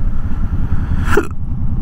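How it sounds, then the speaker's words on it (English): A single short hiccup-like sound rising briefly out of a steady low rumble, loud and close, with no talk. "I said no to the hiccups."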